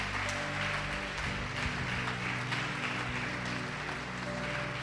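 A church congregation applauds, a dense, sustained wash of clapping heard alongside a steady low hum, continuous and even.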